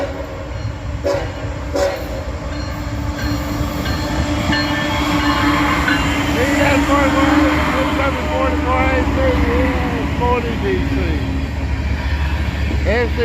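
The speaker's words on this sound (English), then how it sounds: "he's coming around the corner now. One locomotive, two locomotives, got three locomotives on the head end, and this is a coal train" A coal train led by three locomotives rolls through Abbeville, South Carolina, with a loud, steady rumble and rattle of wheels, some horn tones, and voices faintly underneath.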